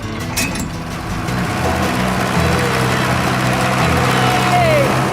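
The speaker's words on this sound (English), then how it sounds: "Dick's kindly lending me his very own 1950s diesel-powered Fordson" A 1950s diesel-powered Fordson tractor engine runs with a steady, loud, low rumble throughout, close by, with a faint rising whine near the end.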